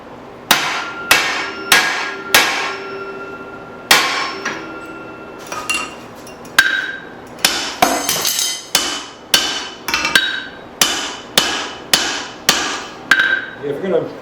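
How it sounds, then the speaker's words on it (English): A hammer strikes a drift punched through hot spring steel during hatchet forging, a long run of sharp ringing clangs in irregular bursts that settle into a steady rhythm near the end, close and loud. "Take a few more heats with this drift, and I'm going to switch to a bigger drift."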